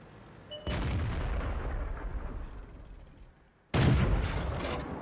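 Tank gun in a video game booming loudly, its rumble fading over a few seconds before a second sharp, heavy impact blast hits close.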